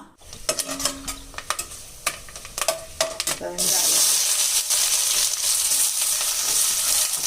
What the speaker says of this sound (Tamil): பட்டை கிராம்பு ஏலக்காய் பிரிஞ்சி இலை ஸ்டாரு எல்லாமே போட்டு தாளிச்சிருக்காங்க